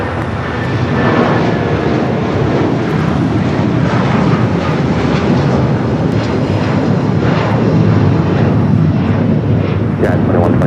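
A 26-year-old Boeing 757 jet departs LAX bound for Newark, a loud sustained engine roar rumbling steadily throughout, with voices talking over it.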